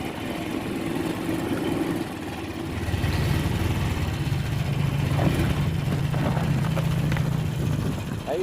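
Duromax 440cc Kawasaki Mule utility vehicle driving on a frozen lake, its engine chugging steadily nearby and rising in revs partway through, with faint voices in the background.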